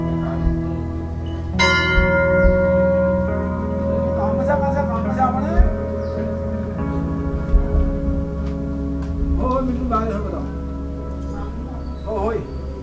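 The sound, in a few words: temple bells ringing at Golu Devta temple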